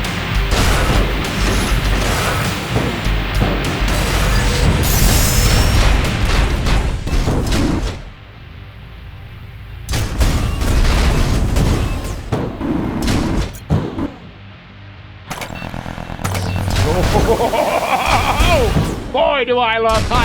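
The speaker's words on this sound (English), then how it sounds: "Boy, do I love high caliber cannons." Heavy high-caliber cannon blasts in the PlayStation 5 game Gunhead Demo boom in loud bursts with mechanical clanks between them, separated by a couple of short quieter gaps.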